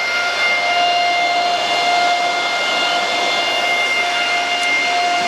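An Elphapex DG1 Lite cryptocurrency miner runs at full load, its cooling fans producing a loud, steady whooshing roar with a constant whine, close and unbroken throughout.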